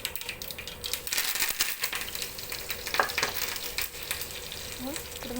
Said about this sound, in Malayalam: ഇനി കറിവേപ്പില ഇട്ട് കൊടുക്കാം.